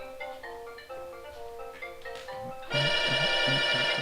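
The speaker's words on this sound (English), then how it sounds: "I always hear that phone ring and you never answer it." A phone ringtone plays, starting as a soft melodic electronic tune and then jumping to a louder, bright repeating ring pattern with a steady pulsing rhythm, with no voices over it.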